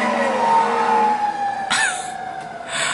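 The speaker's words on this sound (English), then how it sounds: "The ambulance is coming." A loud ambulance siren wails steadily close by, its tone sliding between pitches, with traffic noise underneath.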